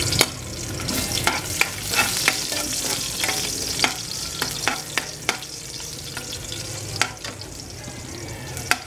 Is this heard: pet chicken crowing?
no